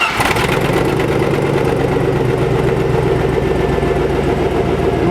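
A 2002 Chevrolet Silverado 4.8L V8 with a random misfire and exhaust back-pressure trouble cranks, fires up and settles into a steady, loud idle close by, with no talking.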